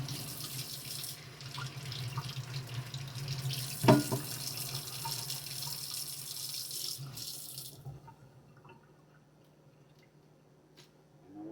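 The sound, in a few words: water running from a tap, rinsing an avocado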